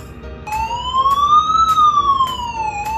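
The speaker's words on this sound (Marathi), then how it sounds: "सायरन वाजतोय. सो सायरन असा वाजतो." A Qubo Hero home security camera sounds its siren, a loud, close electronic wail sweeping slowly up and down in pitch, with regular clicking pulses beneath it and no talking.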